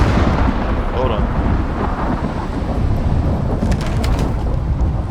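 Thunder from a flash storm in the survival game Icarus rumbles in a dense, continuous roll with heavy rain-like noise, loud and sustained throughout.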